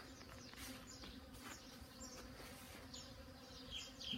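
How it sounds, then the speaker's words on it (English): Many bees flying around a hive area, a continuous close buzzing drone with individual insects passing near, alone with no talk. "Boy, I didn't have this many bees flying the last time."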